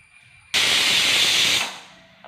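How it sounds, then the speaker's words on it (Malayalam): A pressure cooker whistle lets out steam while raw plantain cooks for a Kerala-style dish: one abrupt, loud, steady hiss lasting about a second, then fading off into near quiet. "കുക്കറിൽ വെച്ച് ഇനി രണ്ട് വിസിൽ ഊതട്ടെ കേട്ടോ"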